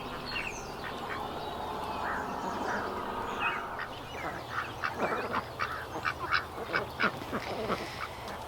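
Several ducks quack in a garden with plenty of water, the calls repeating in loose bursts that grow busier toward the end, close by over a soft outdoor background.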